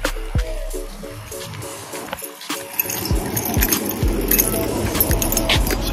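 A set of keys jangles and clinks in a few short, close bursts near the start, followed by shuffling handling noise and clatter, with no talking over it.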